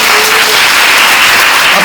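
A congregation at a community worship gathering bursts into dense, loud, sustained applause filling the whole moment, with no pauses.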